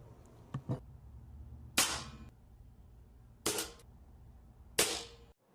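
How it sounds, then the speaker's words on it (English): An air gun firing Gamo Lethal pellets into a denim target: two faint clicks, then three sharp, cracking shots at steady intervals in a quiet setting. "I had to shoot the the Challenger twice, the Gamo Lethal."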